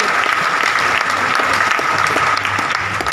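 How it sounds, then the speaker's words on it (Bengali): An audience at a company's tenth anniversary celebration claps loudly and continuously for the managing director, a dense, steady roar of many hands from start to end. "স্যারের জন্য আরেকবার জোরে করতালি হয়ে যায়।"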